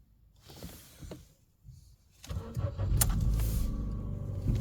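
A 2006 Ford Fiesta Zetec engine cranks and starts, then settles into a steady, close idle with a strong low rumble after a few quiet clicks and brief sounds from the ignition.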